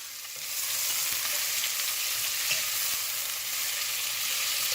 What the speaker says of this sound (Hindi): जब मेरा ऑयल थोड़ा गरम हो जाएगा तो मैं इसमें प्याज डाल दूँगी।